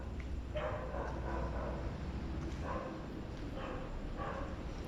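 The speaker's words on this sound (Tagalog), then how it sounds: "May kumakahol ng mga aso." Dogs bark at night around an abandoned cockfighting arena, a handful of faint, distant barks spaced a second or so apart over a steady background hiss.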